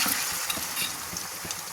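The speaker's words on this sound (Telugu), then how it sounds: "ఇప్పుడు మామూలుగా ఈ చికెన్ ముక్కలు కలిపేసుకొని మనం కాగినటువంటి నూనెలో ఈ కొంచెం దోరగా వేయించేసుకోవాలన్నమాట" Chicken pieces for pickle frying in hot oil, a dense steady sizzle with brief scraping stirs, close and loud with no voices.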